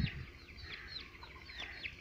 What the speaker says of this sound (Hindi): दोस्तों ये हमने घर में मुर्गियाँ रखी हुई हैं